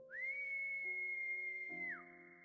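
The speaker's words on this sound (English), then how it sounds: "He whistles, and the sound lingers." A long, steady whistle in a Love and Deepspace game cutscene, rising quickly to a sustained high note that holds for nearly two seconds before gliding down, set over a soft, layered musical backdrop.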